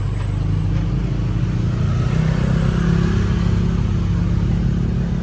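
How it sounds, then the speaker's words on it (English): Engines idle and rumble in a street traffic jam in Pattaya, with baht buses among the vehicles, a steady mid-pitched motor drone with faint revving, close and continuous with no talk. "Little traffic jam here,"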